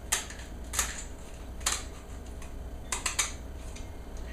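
Kitchen shears cut down the center of a lobster tail shell, giving sharp, irregular crunching snips close up over a quiet background.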